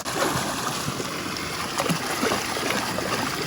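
Water rushing through mashed debris of a beaver dam in a stream, a steady broadband wash and trickle running continuously and fairly close, with no talk.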